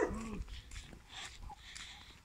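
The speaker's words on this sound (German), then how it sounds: "ein Hund und ein Hund bellt hier auch schon" A dog heard outdoors during a village walk in Senftenbach, Austria gives a brief, faint yelp or whimper at the start, followed by quiet ambient background.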